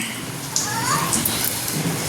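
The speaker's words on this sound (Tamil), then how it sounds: "மழை நல்லா பெஞ்சிட்டு இருக்குது" Steady rain falling, a broad even hiss that holds throughout, with faint voices in the background.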